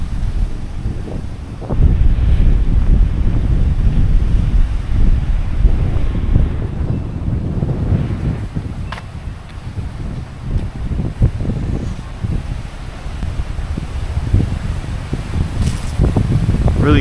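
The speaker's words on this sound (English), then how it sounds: "This wind is really picking up." Strong, gusty wind buffets the microphone outdoors on a street corner in the historic district of Palatka, Florida, a loud continuous low rumble with surging gusts throughout and no speech.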